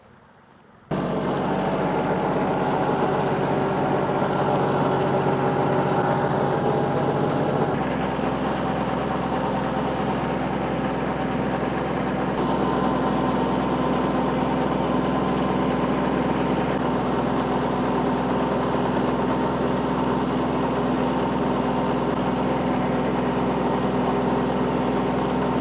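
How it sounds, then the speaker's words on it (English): A tractor engine runs steadily on a rice farm, a loud, continuous low mechanical drone with a slight shift in pitch partway through, heard alone without any talk. "we'll take a look and jump on the tractor"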